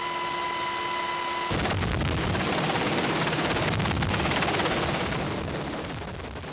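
A military helicopter flies overhead with troops hanging from a ladder beneath it, its loud, steady rotor thump and engine roar filling the air continuously and close by.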